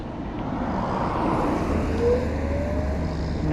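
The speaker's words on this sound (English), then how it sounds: "I'm gonna let this car pass me." A car overtakes a small Honda Motocompacto electric scooter on a road, its steady tire and engine rumble swelling slightly past the midpoint, then holding as continuous road noise with no talk.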